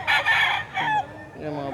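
A gamefowl brood stag rooster crows nearby, a loud, close cock-a-doodle-doo with a drawn-out middle and a falling tail, heard clearly on its own.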